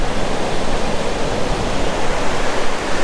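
Broadband surf rolls in steadily on a wide, flat California beach at Silver Strand near a bed of kelp, a loud, continuous hiss of breaking waves heard close with no voices.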